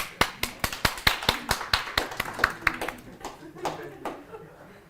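A small group claps at a hybrid engineering seminar, a series of distinct sharp hand claps at a quick steady pace that thin out and fade after a few seconds, with voices talking underneath.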